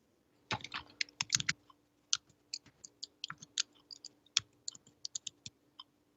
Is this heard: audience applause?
no